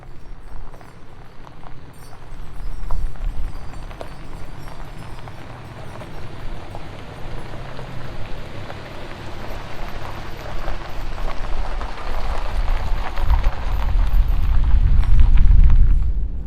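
A truck hauls a Farmall 140 tractor chained onto a trailer down the road, producing a continuous low rumble of road and wind noise that swells louder toward the end.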